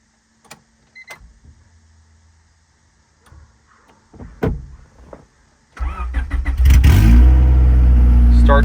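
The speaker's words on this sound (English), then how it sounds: "Starts right up." A few clicks and a brief cranking after the fuel pump is primed, then a Honda Civic engine catches and roars to life, settling into a loud, steady run.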